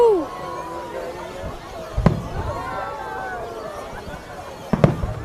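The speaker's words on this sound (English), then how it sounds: "these fireworks just getting better and better." Fireworks bursting over Dee Why Beach in Sydney, two distant booms a few seconds apart heard beneath excited crowd chatter and cheering voices.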